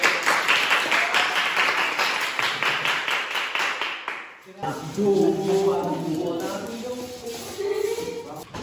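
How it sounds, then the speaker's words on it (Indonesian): A school class applauds a group presentation, a few seconds of close, lively clapping from students that stops abruptly, after which a teacher speaks over room noise. "Tepuk tangan untuk"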